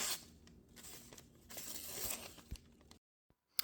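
Paper tearing under a Spyderco Delica knife blade with K390 or S90V steel during edge retention testing, a few seconds of rough rasping cuts, then silence and a brief rustle at the end.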